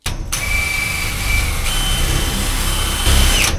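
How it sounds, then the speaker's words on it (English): A power drill with a blunt bit whines steadily at high pitch, grinding with a rough, strained tone before the motor shifts and winds down. "the drill bit is blunt"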